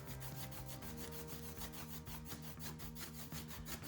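Brush scrubbing glaze on Lincrusta wallcovering makes a close, rhythmic rubbing with fast back-and-forth strokes. Steady low tones sit underneath throughout.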